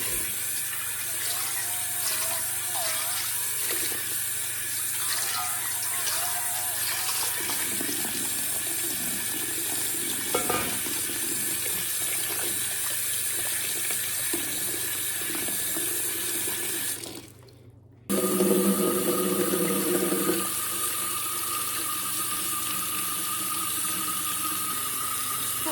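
Tap water runs steadily into a sink as fresh white and yellow peaches are rinsed, with a brief break in the flow before it resumes close and loud.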